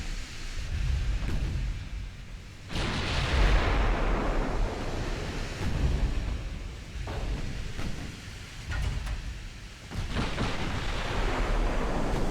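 Naval gunfire from Ultimate Admiral Dreadnoughts, a WW2 battleship battle between Kongo and Andrea Doria, with loud booming salvos that roll out over a continuous roar of sea and wind, several distinct blasts across the stretch.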